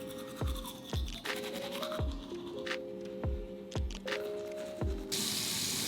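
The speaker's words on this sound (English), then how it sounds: "I'm gonna take my toothbrush and I'm gonna take my toothpaste and I'm going to brush my teeth." Teeth are brushed with a toothbrush and toothpaste in close, scratchy strokes, with occasional soft knocks and a burst of spray or running water at the end, and no talk.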